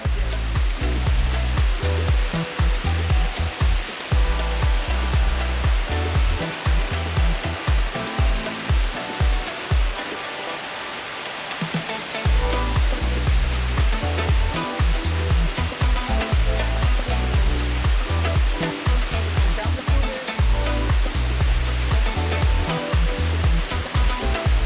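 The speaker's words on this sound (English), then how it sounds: "the waterfalls is loud, water crashing down, mist coming up" A loud waterfall at Sky Valley Falls sends water crashing down in a steady, close, roaring rush that fills the whole stretch, with a brief dip partway through.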